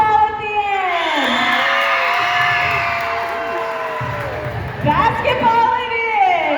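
A packed high school gym erupts for the basketball team at a Pink-Out pep rally, with loud continuous cheering, whoops and bellowing shouts that hold steady and then surge again.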